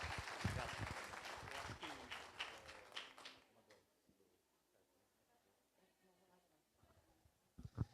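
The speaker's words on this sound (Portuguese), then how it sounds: "Aplauda o Senhor" A church congregation applauds in a burst of loud, dense clapping that fades over a few seconds, followed by quieter room sound and a few scattered claps near the end.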